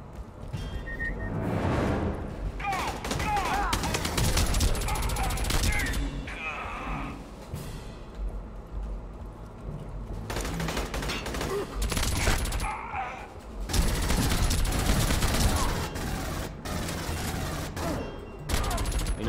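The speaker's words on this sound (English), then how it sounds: "Machine gunner versus machine gunner." Machine gun fire in Aliens: Colonial Marines, loud bursts of rapid shots in repeated volleys with crashes and brief quieter gaps, mixed with game voices talking between the bursts.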